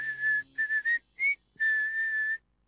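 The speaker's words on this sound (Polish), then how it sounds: "Ładnie gwizdałeś" A clear, high whistle plays a short tune in a few bright phrases, one held note at the end, close and alone.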